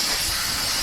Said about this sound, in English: So we'll spray that down.